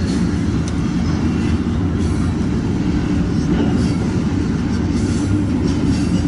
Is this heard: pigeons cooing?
no